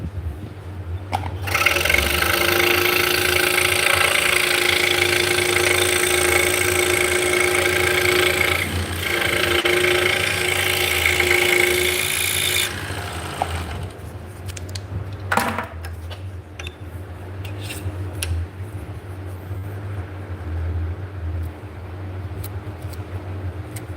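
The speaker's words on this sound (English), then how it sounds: "This is a scroll saw, so it's got a reciprocating blade, so it goes up and down." A scroll saw drives its up-and-down reciprocating blade through wood with a loud, steady buzzing whir for about twelve seconds. It then stops, leaving a quieter room with a low hum and scattered clicks.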